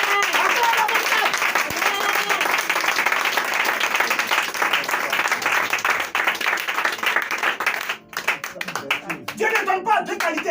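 A church congregation applauds loudly and steadily, with dense clapping that briefly dips near the end before resuming, while a voice speaks over it.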